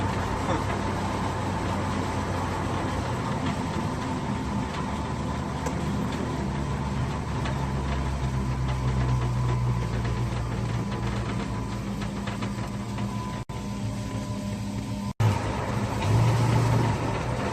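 A custom 1953 Chevy pickup drives along with its engine note held steady and close, probably in second gear on a cold day, while a voice speaks faintly in the cab.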